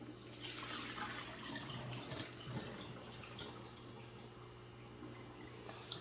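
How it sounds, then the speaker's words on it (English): Water pours off a hydroponic seed tray in a quiet indoor space, a soft, continuous splash and trickle over a low steady hum. "I'm gonna pour the water off of this."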